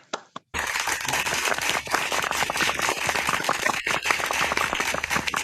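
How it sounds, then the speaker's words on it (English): An audience applauds a speaker at a public speaking education event, a dense burst of many hands clapping that starts abruptly after a few isolated claps and keeps going steadily. "Big round of applause for Laxmi."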